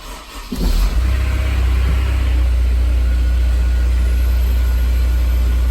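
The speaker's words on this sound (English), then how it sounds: "Got it in neutral, hit our start button." A Honda S2000 with a misfire problem starts up in neutral at the push of a start button, a brief crank catching into a loud, steady high idle that drones on close by.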